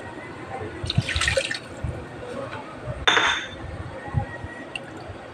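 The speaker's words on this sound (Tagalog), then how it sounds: "lalagay na tayo ng tubig" Water poured from a container into sautéed ground meat in a pan, two short splashing bursts with quieter cooking sounds and a voice speaking between them.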